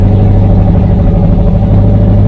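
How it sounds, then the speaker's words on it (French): A 1962 Volkswagen Beetle ragtop engine idles fast with a steady, loud low-pitched rumble and even throb, close up and unbroken throughout. "Là ton ralenti est vachement haut"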